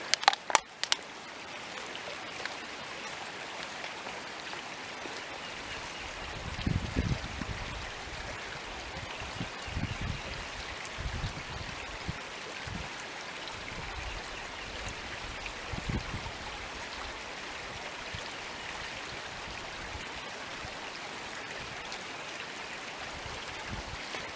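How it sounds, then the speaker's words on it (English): A stream on the Knobstone Trail flowing steadily with a constant wash of running water, and occasional low thumps and rustles close by. "So I found another beautiful stream here on the trail"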